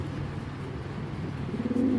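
A strong young racing pigeon from a club-raced line coos low and close, a brief throaty murmur swelling near the end over a steady dull background hum.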